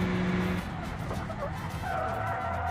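A car in a video game police chase slides into a short drift, tyres squealing and scrubbing over a steady engine drone, fairly quiet with no talk.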